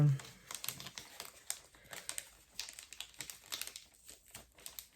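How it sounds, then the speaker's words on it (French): Gift paper from an advent calendar is unwrapped by hand, giving a close, steady run of soft crinkles and crisp rustles with no one speaking over it. "J'essaye de ne pas déchirer les papiers parce que ça peut toujours resservir."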